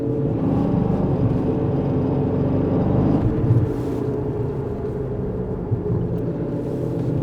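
Dodge Challenger with a badly assembled engine driving along, a steady loud rumbling drone with an underlying rattling, knocking roughness, heard from inside the car with no talking.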